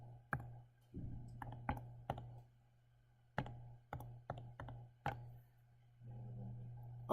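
Keys being pressed on a calculator or keyboard, a series of sharp, close clicks at irregular intervals over a steady low hum, with some brief softer rustling noises between presses.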